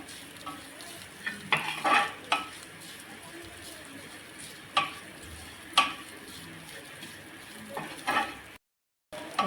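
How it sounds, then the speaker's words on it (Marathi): Spicy dried Bombay duck (bombil) thecha is sautéed in a pan, with a soft background sizzle and intermittent scraping stirs of a spoon against the pan, close and fairly quiet. "आपण छान असा हा ठेचा परतून घेतलेला आहे"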